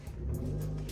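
A car accelerates away nearby, its engine rising in a loud, steady roar for about a second, with no speech.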